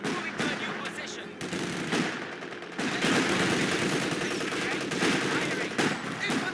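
Machine gun fire in the World War II strategy game Company of Heroes 2, rattling bursts that run nearly without pause, loud and dense, with brief gaps and a faint voice under the shooting.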